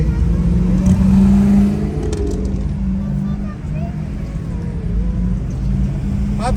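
Cars, among them a Mercury and a Corvette, cruise past on a street the day before the Dream Cruise, a loud, steady engine rumble with a revving swell early on, and people talking over it.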